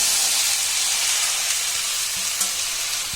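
Chopped tomatoes sizzle loudly in a hot pan for a tomato chutney, a dense, steady frying hiss with faint stirring scrapes underneath and no talk.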